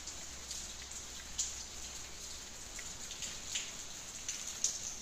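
Rain falls steadily outdoors during Ramadan, a faint even hiss with a few soft scattered drops landing close by.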